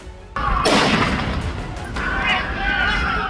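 Gunfire during the terrorist attack at Bondi Beach in Sydney, captured as news footage: sudden loud bursts of shots break in and continue as a dense, sustained, noisy barrage with voices mixed in.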